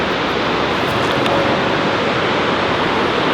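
The roaring water of Victoria Falls in Zimbabwe, a loud unbroken broadband rush of falling water that fills the air evenly from start to finish.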